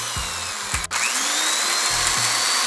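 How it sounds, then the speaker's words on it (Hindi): Power drill boring holes into a round piece for a homemade rechargeable LED stand, several short bursts of motor whine with brief pauses between them, close and fairly loud. "तो मैं यहाँ पर ड्रिल मशीन का यूज़ कर रहा हूँ।"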